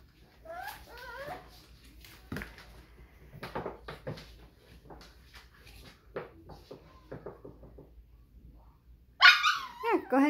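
Small puppies yip and bark in short bursts, fairly close, with a louder burst of barking near the end and soft talking between.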